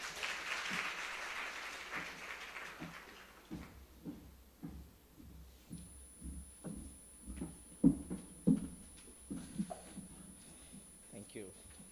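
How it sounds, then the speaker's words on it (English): Scattered, fairly faint audience clapping welcomes a speaker at a strategic forum, with irregular individual claps spread over several seconds after a brief spoken introduction. "let us welcome him with a round of applause"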